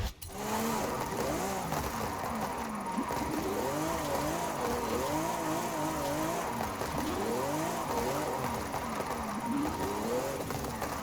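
Lamborghini SC20 in the Forza Horizon 5 racing game, engine note continuously rising and falling as it revs and shifts through gears, loud and steady throughout with no pauses.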